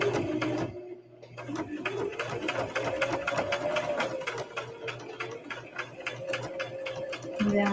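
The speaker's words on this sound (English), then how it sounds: "so I'm just top stitching it" A sewing machine top stitching a small fabric keychain wallet runs steadily and close, a fast rhythmic mechanical whir with a brief pause near the start and a short stop near the end.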